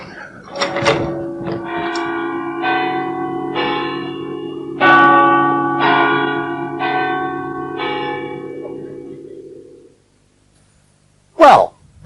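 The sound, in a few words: church bells ringing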